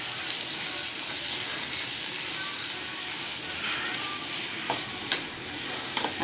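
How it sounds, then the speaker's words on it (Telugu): Cashews frying in a pan with onions and tomatoes make a steady, even sizzle with light stirring scrapes and a few soft clicks near the end, close and moderately quiet. "మంచిగా వేయించుకోవాలి మెత్తబడే వరకు"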